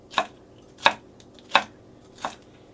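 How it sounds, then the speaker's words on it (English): A knife chops sausage and peppers on a cutting board, four sharp, evenly spaced thunks about two-thirds of a second apart, close and clear with no voices. "So just cutting these all up."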